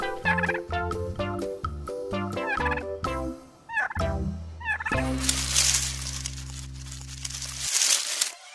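A domestic turkey gobbles in a series of rapid warbling calls, first in short bursts, then a longer, louder rattling gobble near the end.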